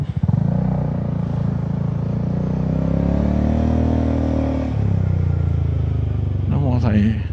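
A Honda Forza 300 scooter cruises along with a steady engine drone and road rumble. Its pitch shifts slightly as the rider slows and turns, someone talks over it throughout, and a brief clatter comes near the end.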